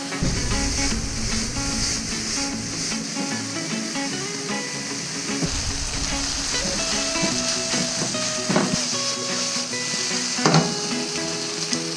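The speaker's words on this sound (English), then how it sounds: "After the vegetables are getting a good cook on them, you can go ahead and dump in the rice" Vegetables and rice sizzle steadily while frying in a pan, with a dense continuous hiss and occasional stirring clinks and scrapes throughout.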